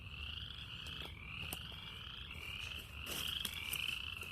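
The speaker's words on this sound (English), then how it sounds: "You can hear all them frogs, I'm sure" Frogs croak steadily from a stream bank on a farm, a continuous layered chorus of near and distant calls with no talking.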